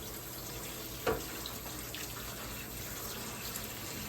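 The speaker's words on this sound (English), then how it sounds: "So let me add some water to this right now." Tap water running into a pot of carrots in a kitchen, a steady close faucet stream with one brief splash near the start, no voices.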